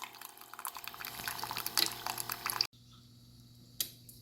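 Coffee maker brewing coffee into a cup, with faint irregular dripping and trickling for a few seconds, then an abrupt stop to near silence broken by a single soft clink.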